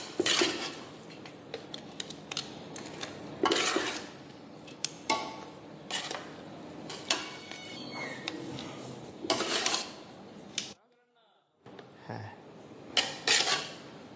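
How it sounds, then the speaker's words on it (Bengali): Beef being mixed into tahari rice in a pan, with a utensil scraping and clinking against the metal in repeated strokes. The sound is close and steady, pauses for a moment near the end, then resumes with a few more scrapes. "আমরা এখন আমাদের এই বিফটা মিক্স করবো এটার সাথে"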